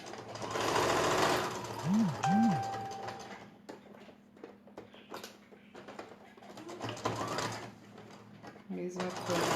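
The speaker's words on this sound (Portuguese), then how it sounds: "Agora eu vou costurar passando" A sewing machine stitches a patchwork block along a pinned seam in short, stop-start runs of mechanical whirring, with someone speaking over it at points.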